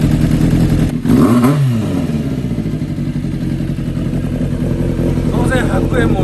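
A Japanese-market Honda CBX400F motorcycle idles right after a cold start, its engine holding a steady, close, loud rumble with a brief revving swell near the start, while a voice speaks over it.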